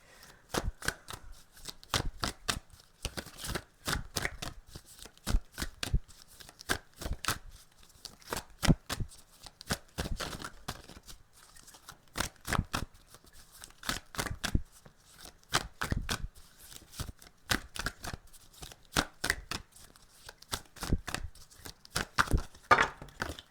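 A crime scene oracle card deck is shuffled close by, with rapid riffling bursts and flicks repeating steadily for over twenty seconds and no voices.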